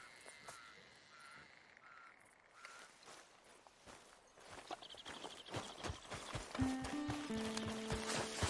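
Horse hooves clip-clop at a steady walking pace in Red Dead Redemption 2, fairly faint at first and growing more prominent, with crows cawing and other outdoor sounds mixed in.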